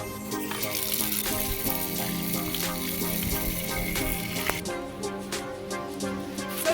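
Running tap water splashes steadily over a freshly peeled coconut in a home kitchen sink, a continuous close gush with a brief shift in tone near the end.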